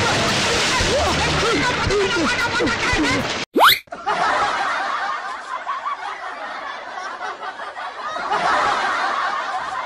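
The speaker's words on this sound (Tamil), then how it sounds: "மனுஷன் பாவம் படி தெரியாம தண்ணிக்குள்ள விழுந்துட்டாப்புல" A man slips on steps hidden under snow at a wedding house and plunges into water, one sudden sharp splash cutting through steady chatter and snickering laughter that resumes right after.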